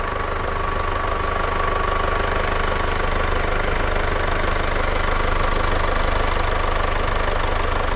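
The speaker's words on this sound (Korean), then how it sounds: "엔진 소리 일정합니다" A diesel engine in a Mercedes-Benz GLC 250 d 4MATIC (X253) idles steadily nearby, a constant low rumble with a faint mechanical hum and no other sounds.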